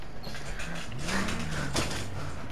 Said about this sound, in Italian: Fammi accendere la macchina.